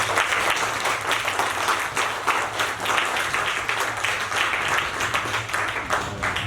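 Theatre audience at a live Lucknow stage play applauding the actors, continuous dense clapping with faint crowd murmur throughout.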